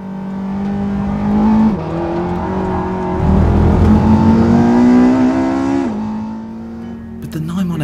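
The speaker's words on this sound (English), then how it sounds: "That's Walter Roll in front, driving a new 911 Turbo S, by the way, and driving it quite hard" Porsche 911 Turbo S driven hard on a circuit, its loud engine note rising and falling through gear changes as it accelerates past nearby, with a rushing roar in the middle.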